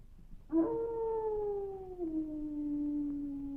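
A single dog howl, long and wavering, rising sharply then sliding slowly downward, loud and close with a faint background hum.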